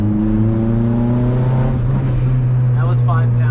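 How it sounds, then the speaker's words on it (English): Turbocharged 1996 Honda Civic with a D16Y7 engine idling steadily with a low drone, then popping and backfiring after light throttle, with brief sharp crackles near the end. "it backfires like that"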